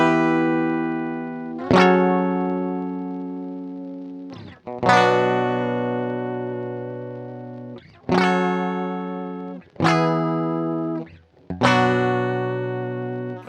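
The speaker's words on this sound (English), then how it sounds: "You can totally hear that flutter just going wild." Guitar chords run through the flutter effect of a Roland SP-555 sampler, five sustained struck chords with a wavering, warbling decay, loud and close with no talk.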